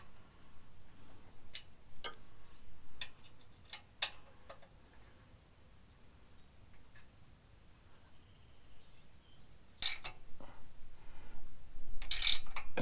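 Ratchet wrench clicks in short bursts while a 7/32 Allen bolt on a Jeep Wrangler JL track bar is tightened, with scattered sharp metallic taps and a rising clatter near the end, fairly quiet and without talk.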